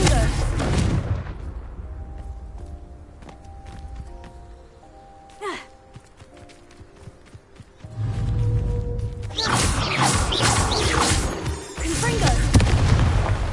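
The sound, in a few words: Confringo fire spell blasts in the video game Hogwarts Legacy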